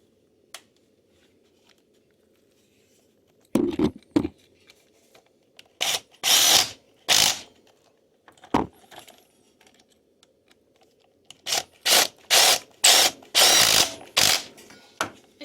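A cordless drill drives brake caliper pins on a Honda Rancher ATV during a front brake replacement: a few isolated whirring bursts, then a rapid run of short, loud, close-up spins with pauses between them.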